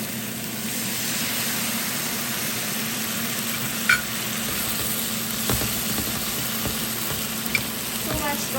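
Marinated chicken and mushroom fry in a pan after a splash of water, giving a steady, close sizzle throughout with a few faint clinks and stirring touches.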